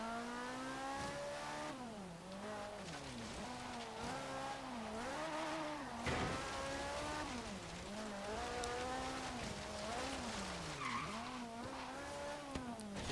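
A 1969 Ferrari Dino 246 GT, mid-engined and running far more power than stock, howls through gear changes with rising and falling revs and repeated tire squeal on an autocross course in Forza Horizon, loud and continuous with no talk.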